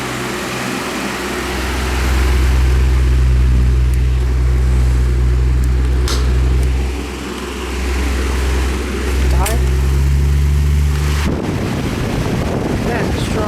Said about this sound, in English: That's a strong fan.